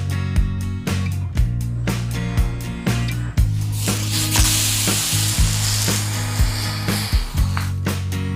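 Raw mango and cucumber thalipeeth flatbread fries loudly in a pan, a steady close sizzle broken by repeated sharp scraping and tapping knocks from a spatula, with no talking.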